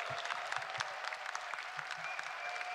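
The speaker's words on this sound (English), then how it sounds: "big round of applause" Applause from a fan Q&A audience at a UFC 289 event, a brief, even patter of many hands clapping at moderate distance with a few sharper claps poking through, no talk over it.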